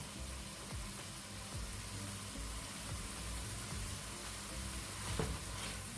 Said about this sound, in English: that's simmering along nicely